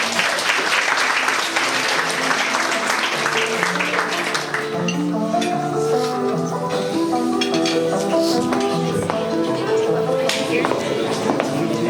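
A warm round of applause at a graduation party, crowd clapping throughout with a musical tune and voices mixed in.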